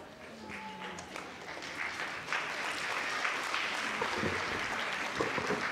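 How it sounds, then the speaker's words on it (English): Applause from an audience after a jalsa program at an Islamic centre, rising from scattered claps into a steady, fairly faint roar heard from within the hall. "Please can we give a big round of applause for this beautiful program for Sheikh Sulaiman Salama"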